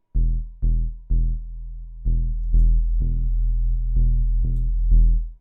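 A simple synth bass line for melodic techno, nine short plucked low notes in a steady, slightly syncopated rhythm, loud and dry with quick decays and no other sounds.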